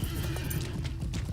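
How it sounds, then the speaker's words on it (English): Steady, rhythmic clip-clop of horse hooves in the video game Lord of the Rings Online, fairly loud over continuous background game audio, with no speech. "Now I guess that's a good time to mount my horse"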